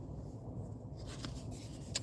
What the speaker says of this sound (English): Let me finish shuffling these cards over here.